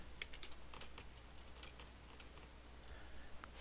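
Quiet, quick keystrokes on a computer keyboard as a short search word is typed, a brief patter of clicks then a few scattered taps.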